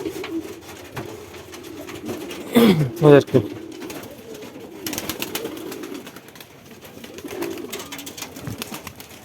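King and Kaldom pigeons coo in a few short bursts around the middle, close by, over a low steady background with some faint talk.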